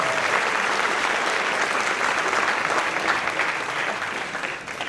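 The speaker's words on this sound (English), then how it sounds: "Let's give them a nice round of applause." Audience applause for the Board of Education members at a high school band concert, a dense, steady wash of many hands clapping together for about five seconds before thinning slightly at the end.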